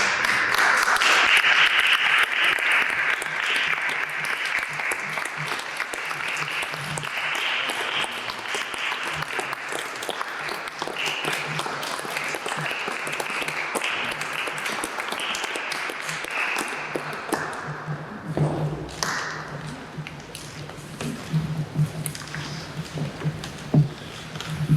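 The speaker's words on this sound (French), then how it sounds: "Vous pouvez l'applaudir." Sustained audience applause follows a city council presentation of a gold medal in Nancy, a dense wash of many hands clapping at steady volume for about twenty seconds before thinning out, with a few scattered claps at the end.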